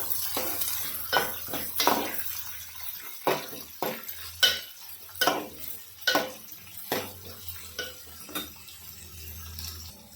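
Green chilies and onion fry in a kitchen pan, with a steady sizzle under repeated sharp scrapes and clinks of a spoon stirring against the metal in a regular rhythm.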